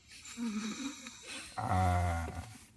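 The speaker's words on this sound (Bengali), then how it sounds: "নাক ডাকার সাউন্ডটা দেখো" A person snores close by inside a car: a soft rasping breath, then a loud, buzzing snore that rumbles for about a second before fading.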